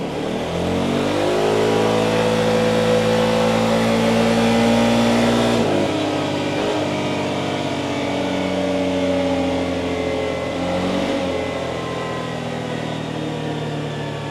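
A Yamaha XMAX 300 scooter engine holds a loud, steady high rev on a dynamometer, dipping briefly twice before climbing again, droning continuously throughout.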